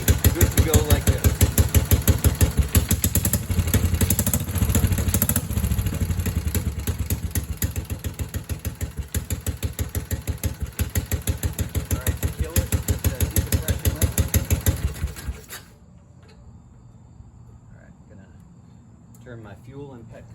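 Vintage 1967 Moto Guzzi Falcone NT Polizia single-cylinder engine running after a bounce start, a loud close steady rapid thump that cuts off abruptly, leaving faint background after fifteen seconds.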